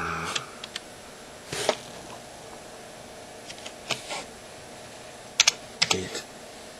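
Keys clack on a computer keyboard in short, irregular bursts as a command is typed, quiet and close, with pauses between clusters of keystrokes and no talking.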